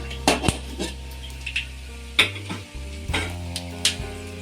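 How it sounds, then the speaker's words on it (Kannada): Peanuts fry in a pan while a spoon stirs and scrapes, producing repeated metallic knocks and scrapes over a low hum and light sizzle, close by and without speech. "ಕಡಲೆ ಬೀಜ ನೋಡಿ ಈ ರೀತಿ ಫ್ರೈ ಆದರೆ ಸಾಕು."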